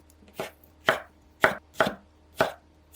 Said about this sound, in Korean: 쪄낸 당근은 먹기 좋은 크기로 깍둑 썰기 하세요